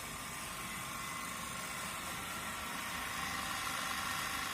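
Three-phase induction motor running steadily near 1500 rpm, close to synchronous speed on a 409-volt line, giving a continuous, even hum and whir with broad noise and no talking.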